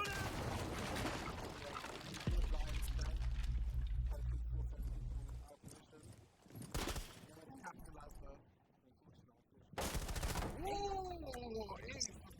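Gunfire in a Rainbow Six Siege esports playoff match, with bursts of shots among in-game clatter and footsteps, heard beneath continuous excited commentary from casters.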